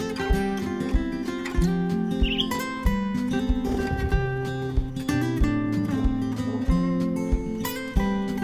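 A pet bird sings steadily in a kitchen during cookie baking, giving sustained warbling notes and repeated chirps at moderate loudness, close by and with no talk over it.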